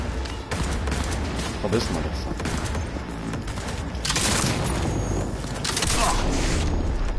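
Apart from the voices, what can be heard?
gunfire shooting at player in video game Cyberpunk 2077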